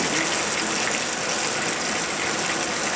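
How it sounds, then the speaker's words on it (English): Hot grease bubbles and sizzles in a pan as fish fries, a loud, close, dense and unbroken hiss that holds steady throughout without speech. "So you want your grease bubbling like this."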